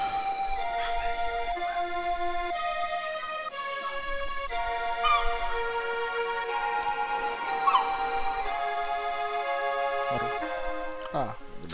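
Puppies in the video game Sea of Stars give small whimpers and yips scattered through bright, tinkling game music, faint and intermittent rather than prominent.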